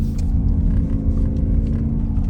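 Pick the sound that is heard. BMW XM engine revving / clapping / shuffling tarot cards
BMW XM engine revving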